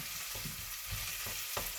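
Sliced ginger sizzles and fries in hot oil in a pan while spicy masala squid is prepared, a steady dense crackle with occasional stirring scrapes.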